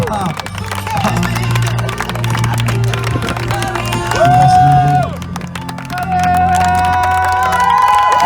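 A crowd cheers and claps for a marriage proposal, with excited shouts rising over applause and music playing throughout.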